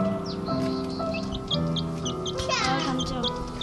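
A pet chick peeps in short, repeated high chirps, close to the microphone, over steady background hum with people talking nearby.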